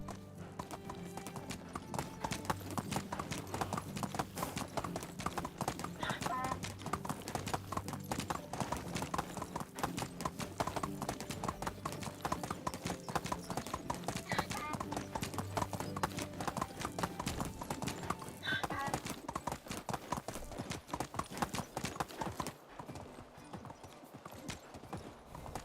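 Horse hooves clip-clop steadily and continuously at a trot in the medieval village-building game Medieval Dynasty, close and prominent, with a brief easing off near the end.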